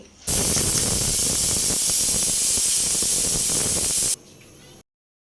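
A kitchen pressure cooker on the stove lets off a loud, steady rush of hissing steam for about four seconds, then drops to a quieter hiss before stopping. No one talks.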